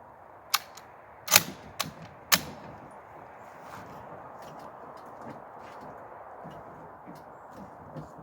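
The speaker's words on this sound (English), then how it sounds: "Let's see if I can hit that plate in the first shot." Rifle shots at a mild steel plate outdoors, four sharp distant cracks in the first few seconds followed by quiet ambient noise.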